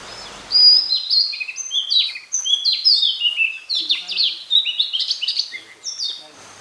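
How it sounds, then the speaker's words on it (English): Birds chirp and whistle in rapid, overlapping high calls close by on a tranquil resort property in the morning, with the song continuing almost without pause over quiet surroundings. "So the one constant sound that you will hear is the call of the birds."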